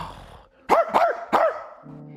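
A dog barks three times in a quick, evenly spaced burst, sharp and fairly close, with near silence before and a faint hum after.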